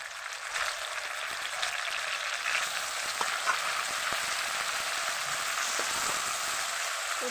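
Taro leaves sizzle in a pan of fried onion and garlic, a steady crackling hiss with scattered small pops, moderately loud and continuous with no talking.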